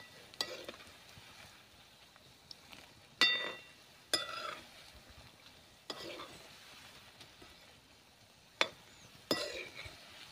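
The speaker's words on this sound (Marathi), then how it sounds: "आता आपण थोडंसं परतून घेऊया, जेणेकरून खाली लागणार नाही आणि व्यवस्थितरित्या तळली जाईल." Bhaji deep-frying in hot oil is stirred now and then, a quiet steady sizzle broken by several sharp clinks and scrapes of a utensil against the pan at irregular intervals.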